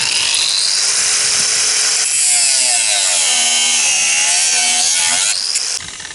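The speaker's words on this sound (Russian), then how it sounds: "Обрезаем шпильку." Power tool cutting through a threaded steel stud during workshop construction, a loud continuous grinding whine with shifting pitch for about five seconds before it winds down.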